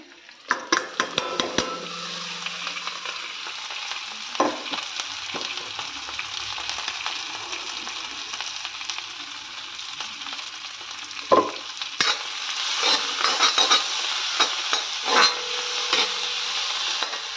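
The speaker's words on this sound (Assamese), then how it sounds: "মাছখিনি ভাজি লওঁ মই মাছৰ তেলতে দি দিলেখিনি তাৰপিছতে কঁঠাল গুটিখিনি দি দিম ইয়াতে" Jackfruit seeds frying with fish in fish oil, a continuous sizzle broken by repeated scraping and clattering stirs from a utensil against the pan, loud and close.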